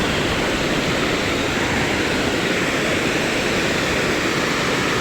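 Water pours over a small mini dam beneath a bridge, a dense, constant rushing roar heard close and loud with no voices.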